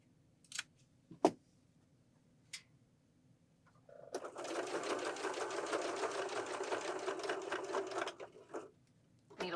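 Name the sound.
sewing machine stitching piping onto a pillow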